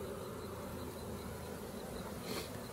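A strong, crowded honeybee colony in a Layens gable roof forestry hive gives off a dense, steady, engine-like hum that runs unbroken and close throughout.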